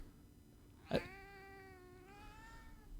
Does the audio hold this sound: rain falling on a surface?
no